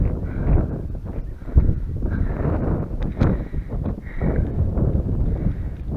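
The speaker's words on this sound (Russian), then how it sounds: "Сильный южный ветер" Strong south wind buffeting an outdoor microphone at a riverside spot, a low, gusty rumble that rises and falls irregularly throughout.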